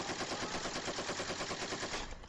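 An AK rifle fires a rapid, sustained automatic burst, each shot evenly spaced in a steady rhythm, played back from a video at moderate loudness and cutting off abruptly at the end.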